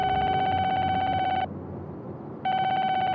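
A telephone rings in two loud electronic bursts, steady and tonal, separated by a one-second pause with only low background noise.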